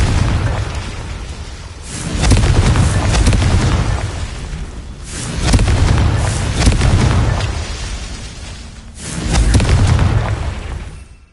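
Confringo explosion spell in the Hogwarts video game: three loud, deep booming blasts spaced a few seconds apart, each with a rumbling low-end swell that lingers and fades before the next.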